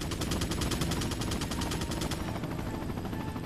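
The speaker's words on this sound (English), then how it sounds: "are you shooting at something or are you just overcompensating?" Sustained rapid automatic gunfire in the Resident Evil 4 video game, an evenly pulsing stream of loud shots that runs almost without a break.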